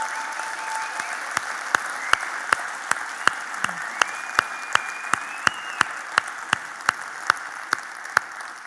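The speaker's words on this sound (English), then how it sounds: "Let's give them a holler right now." A single pair of hands claps in a slow, steady rhythm at a recovery conference, about two claps per second, each one sharp and close over a faint background hum and a brief tone.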